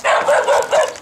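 A neighbor's dog barking beside a steep shake roof in Salida, California, four quick, loud, close barks in an even rhythm with no talk.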